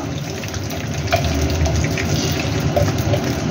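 Ghee hitting a hot kadai sizzles in a steady, close, broadband hiss that keeps up evenly, with small crackles and pops scattered through it.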